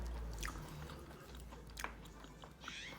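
Someone chewing raw beef mungtigi dipped in sauce, Daegu style, slow soft moist chewing sounds close to the mic, quiet with faint background noise and no talk.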